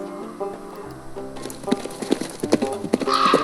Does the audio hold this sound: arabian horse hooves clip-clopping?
yes